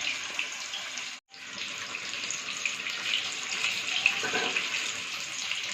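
Split chilli bajji in batter deep-fry in hot oil, giving a steady, dense sizzling hiss that drops out for a brief moment and then carries on.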